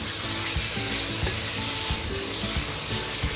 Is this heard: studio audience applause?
no